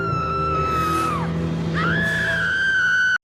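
A girl in an animated show lets out a long, sustained high-pitched scream that dips and then climbs again, loud and close over a low droning background.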